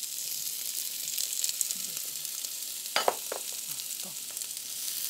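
Artichokes with browned garlic cloves frying in a pan, a steady close sizzle with a few sharp scraping stirs near the middle, alone without voices.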